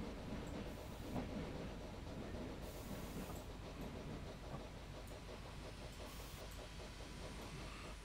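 An 040 saddle tank steam locomotive on the Isle of Wight rumbles steadily as it slows to stop, with continuous rolling wheel noise and rail clatter heard close up from aboard the train.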